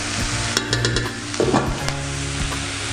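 Oyster mushrooms and potatoes cooking in a pan, a steady sizzle with a few sharp utensil clicks and scrapes, close and moderately loud.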